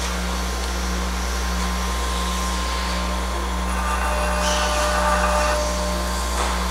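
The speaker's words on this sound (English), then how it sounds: "So let's take a look at it on the grinder and see what it looks like." A bench grinder spark-tests O1 tool steel and mild steel, a steady loud motor drone with deep humming tones and brief harsher grinding bursts as metal touches the wheel, continuous throughout.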